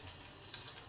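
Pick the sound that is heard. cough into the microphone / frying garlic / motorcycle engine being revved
frying garlic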